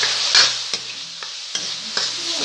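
Turmeric powder being stirred into a frying pan for poha, a steady sizzle with four or five sharp scrapes of the spoon against the pan at a regular pace, close and clear with no talk.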